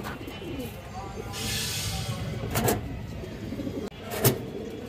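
A female khaki pigeon coos softly among other pigeons in a loft, with low repeated coos under a steady background bustle and a couple of sharp knocks.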